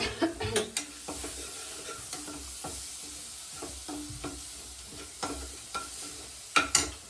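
Chillies sizzle and fry in a pan of spices while a utensil stirs and scrapes, with a steady sizzle under a few sharp clinks and knocks against the metal.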